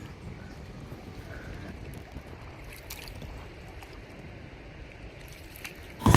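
A coracle is paddled upstream against the current of the Kaveri river at Hogenakkal, with steady water rush and soft splashing strokes, ending in a sharp loud knock against the boat.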